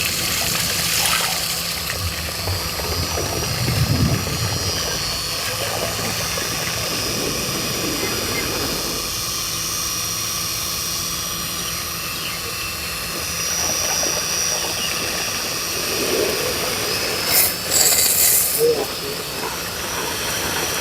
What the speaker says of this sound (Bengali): আমার মনে হয় মোটরটা আগের মতোই ঠিক হয়ে গেছে।